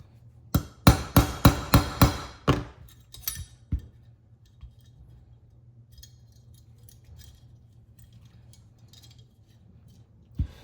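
A hammer striking a pin into a Sarsılmaz Kılınç 2000 Light pistol: a quick run of about eight sharp metallic taps, then a few scattered knocks and a lone tap near the end, close and clear against quiet.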